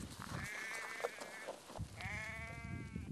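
Sheep bleat among livestock kept with goats wearing belly aprons: two long, wavering bleats, each about a second, sound close over steady farmyard background noise.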